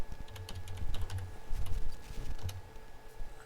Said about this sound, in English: We'll type it in short.